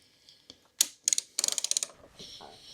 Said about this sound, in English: So just undoing the bolts here for the strut brace.